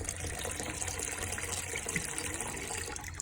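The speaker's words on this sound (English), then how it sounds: "we're gonna start by filling our cup, our measuring cup here, to about 800 milliliters full of distilled water" Distilled water pours into a measuring cup in a home kitchen, a constant close splashing fill that holds level throughout the few seconds without pause.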